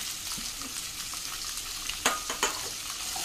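Mixed vegetables including beans, carrot, potato and cauliflower stir-fry in a pan with a steady close sizzle, while a few sharper clinks and scrapes of stirring stand out near the end; no one speaks.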